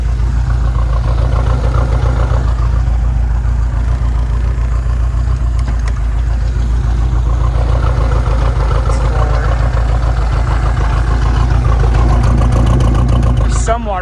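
An inboard engine on a converted pontoon boat idles in neutral with a loud, steady low rumble and constant close mechanical chatter that holds unchanged throughout.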